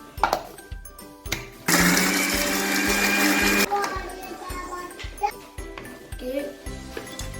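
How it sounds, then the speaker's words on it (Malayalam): A mixer grinder runs loud and steady for about two seconds, grinding masala vada batter ingredients with salt and chopped chili, amid kitchen clatter and a dog barking nearby. "ഇതൊക്കെ കൂടിയിട്ട് നമുക്ക് അടിച്ചെടുക്കണം"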